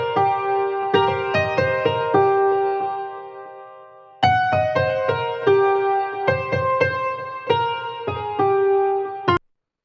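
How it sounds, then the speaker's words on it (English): A beat's alternate melody pattern plays as bright, plucked synth notes in a repeating rhythmic phrase over a low bass pulse, restarting midway, loud and clear without any voices. "Pattern 9, we have this alternate melody that was played"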